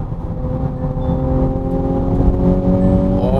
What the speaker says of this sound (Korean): 이건 살짝 페라리 사운드도 살짝 섞은 것 같은 그런 사운드네요.